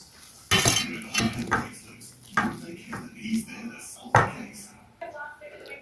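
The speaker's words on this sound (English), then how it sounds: "Just give a good whisk until no lumps" A whisk beats an egg and cocoa mixture into sifted flour for a chocolate cake, giving repeated clattering scrapes against the bowl in uneven bursts, fairly close and moderately loud.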